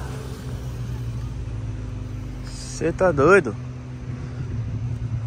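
Lowered cars roll past at a beach car meet, a steady low engine rumble under the scene, with a brief burst of loud excited voices shouting partway through.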